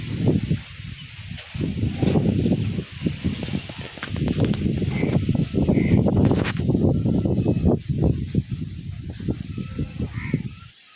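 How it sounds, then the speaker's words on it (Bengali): Strong nor'wester (Kalbaishakhi) storm wind gusts batter the microphone in rough, roaring bursts that rise and fall, with rustling in the background. "আজকে কাল বৈশাখী ঝড় উঠেছে"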